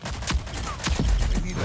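Bursts of rapid gunfire in the Rogue Company video game, several loud close shots in quick succession with a heavy low-end boom, unbroken by talk.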